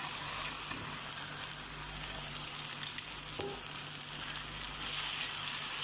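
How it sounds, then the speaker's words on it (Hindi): Minced meat keema frying with ginger garlic paste in a pan, a continuous close sizzle with light crackling and a couple of brief utensil knocks, no one speaking. "अब 1 मिनट फ्राई करने के बाद इसमें हम ऐड कर देंगे कीमा।"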